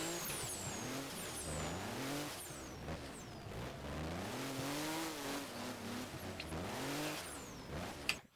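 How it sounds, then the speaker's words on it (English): A racing-simulator car in rFactor drifts with the engine revving and falling in waves as throttle is fed and eased, its tone rising and dipping steadily, with faint tire squeal over the near, continuous engine note. "I'm going to let it just play through so you can hear the throttle control"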